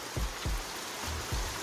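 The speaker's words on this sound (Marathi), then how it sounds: "आणि पाऊस पण आलेला बघा" Rain falls outdoors in a Konkan village during a traditional Tulsi wedding celebration, a steady soft hiss with a few dull low thumps of drops hitting nearby surfaces, with no voices.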